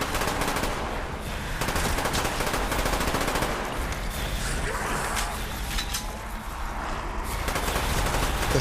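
In Call of Duty Zombies on the Moon map, a Spectre automatic weapon fires in rapid sustained bursts, loud and close, with dense rattling gunfire and game effects continuing throughout.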